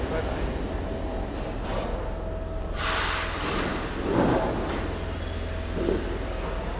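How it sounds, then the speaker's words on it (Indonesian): Steady rail rumble fills the background as a train pulls into a station in Rome, with brief hissing bursts and faint squeals over the continuous low drone. "Wih, keretanya datang."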